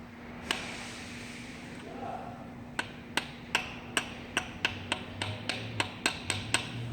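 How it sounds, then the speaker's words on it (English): A brass hammer lightly taps a socket to seat a transmission shift rod seal on a Subaru, a dozen sharp metallic ticks that come singly then quicken into a steady run, close and clear over a low hum. "So I'm just gonna use my brass hammer and just gonna lightly tap"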